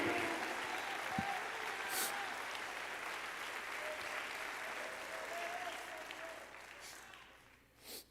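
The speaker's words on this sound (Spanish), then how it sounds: "Dale un aplauso de gloria al Señor." A church congregation applauds in praise, a dense, steady wash of clapping that carries on for several seconds and fades out near the end.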